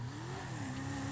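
A race car on the Suzuka circuit in Grand Theft Auto Online, its engine droning steadily with a rising and settling pitch as it runs hard down a straight, fairly faint and without speech.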